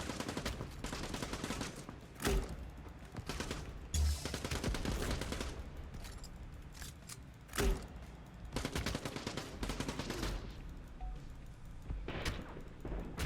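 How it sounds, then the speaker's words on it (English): Grenade launcher fire in the arcade tactical shooter Quantum League, spammed at a flag: bursts of rapid shots and sharp booming hits recur every few seconds over continuous battle noise, fairly distant and without voices. "How about let's spam grenade launcher on the flag."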